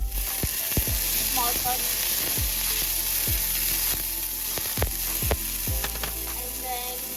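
Diced onion sizzles in hot oil with crackling mustard and cumin seeds for an Indian vegetable sandwich filling. A steady, close sizzle is broken by sharp pops and utensil clinks, with a brief spoken phrase.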